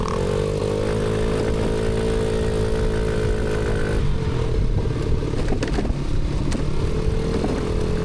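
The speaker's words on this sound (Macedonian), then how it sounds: "Моторот мој се мачит кросот тој" A dirt bike strains up a steep mountain slope, its engine droning loud and close with a steady labouring tone that breaks into rougher, uneven revving and clatter midway.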